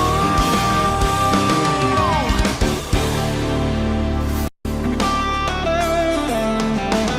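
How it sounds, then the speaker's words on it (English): An electric guitar solo runs through a Fractal Audio amp preset with a cabinet impulse response. Sustained, bending lead notes ring out loud and alone, a brief dropout sits midway, and then the notes resume. "This is the sound of guitar."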